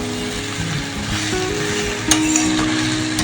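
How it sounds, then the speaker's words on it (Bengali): Vegetables fry in a pan with a steady close sizzle, along with a few clinks and stirring knocks, and nobody speaks. "সবজিগুলোকে এবার পুরো ভালোভাবে ভেজে নেব।"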